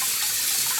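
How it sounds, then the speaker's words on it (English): Warm water pours steadily from a tap into a sink during fabric dyeing, a close, even rushing hiss with no other sounds. "I'm gonna have the water on, not the hottest, but it's not cold either."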